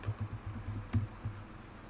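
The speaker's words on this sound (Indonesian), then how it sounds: "Buka lagi git bash-nya atau di command prompt. Kita ketik gulp." A few quick keystrokes are typed on a computer keyboard in a short burst of light, close clicks and taps, entering a command at a prompt.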